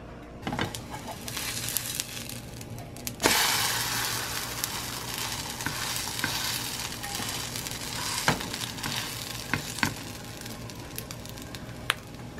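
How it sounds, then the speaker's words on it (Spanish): Bread sizzles in a small amount of hot coconut oil in a pan, a soft, steady frying hiss punctuated by occasional clicks and a louder burst early on. "vamos a pasar nuestro pan por aquí y lo vamos a llevar al aceite caliente"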